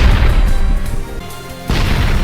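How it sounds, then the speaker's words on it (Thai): A big explosion in the Roblox game Zombies vs Humans gives a loud, deep rumbling boom that swells, dips briefly, then surges again with a second heavy blast, close and low, with no talking. "มีการระเบิดใหญ่ด้วย"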